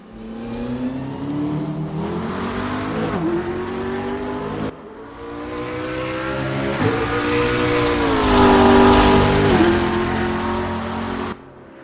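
A race car engine in RaceRoom Racing Experience, heard from outside the car, roars and revs steadily, pitch rising and dropping through gear shifts, loud and close with no voices.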